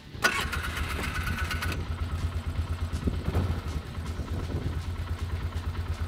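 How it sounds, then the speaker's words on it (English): A Polaris Sportsman 500 ATV engine cranks and catches, then settles into a steady, loud, throbbing idle up close, running on without pause. "This is a Polaris Sportsman 500."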